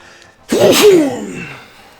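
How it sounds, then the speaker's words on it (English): One sharp, loud sneeze bursts out close to the microphone after a brief quiet moment, its voiced tail fading over about a second. "Oh, I feel a sneeze coming on."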